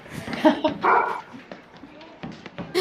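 A dog barks repeatedly at a women's squash quarter-final at the Boston Open, fairly loud against background commentary, with ball taps from the court mixed in.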